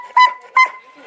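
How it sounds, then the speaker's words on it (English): A dog barks twice in quick succession, loud and close, each bark sharp and ringing, with a faint whine trailing after. "And that's her crazy dog, Hershey."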